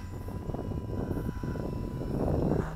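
SeaEagle three-channel stabilized RC trainer plane flying overhead, its small electric motor giving a steady buzzing whine that rises slightly as it passes.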